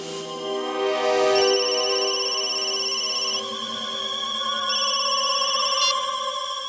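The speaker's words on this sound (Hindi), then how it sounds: "उसके मोबाइल पर एक कॉल आया था।" A mobile phone rings with a bright electronic ringtone, its melodic tones repeating steadily and loudly for several seconds in a tense crime-drama scene, with no voices over it.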